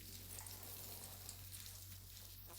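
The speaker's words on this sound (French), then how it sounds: "Laissez-les frire de l'autre côté." Potato balls fry in oil in a pan, giving a faint, steady sizzle with soft crackling and a low constant hum underneath, and no voices.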